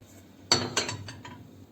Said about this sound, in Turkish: Üzerine kapağımı örtüyorum.